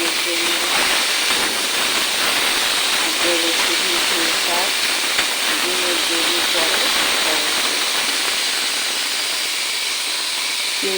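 Malabar spinach leaves dropped into a hot pan give a loud, steady hiss and sizzle that fills the whole stretch, with a voice faintly underneath.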